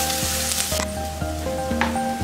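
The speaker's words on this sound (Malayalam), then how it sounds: "ഇതിപ്പോൾ ഒരു 6 വെളുത്തുള്ളിയും ഒരു വലിയ കഷ്ണം ഇഞ്ചിയാണ്. ഇതിൻ്റെ പച്ചമണം മാറുന്നത് വരെ വഴറ്റി കൊടുക്കും." Six garlic cloves and a large piece of ginger sizzle steadily in a hot pan while being sautéed, a close, continuous frying hiss with a few stirring scrapes and no talk.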